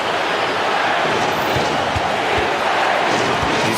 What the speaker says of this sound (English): And the crowd is locked in.